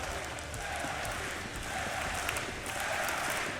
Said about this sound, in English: Yeah, the crowd's loving it.